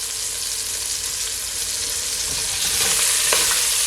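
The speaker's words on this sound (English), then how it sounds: "Just gonna allow it to saute for at least 15 seconds" Onions, tomato and garlic sauté in a pot for one-pot chicken and rice, giving a steady, close frying sizzle with a few stirring scrapes that grow slightly louder toward the end.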